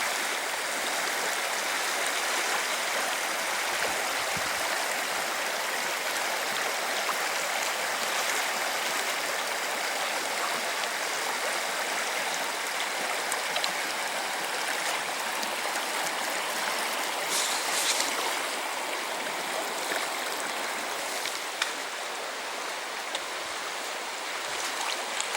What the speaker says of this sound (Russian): Практически первый водопад.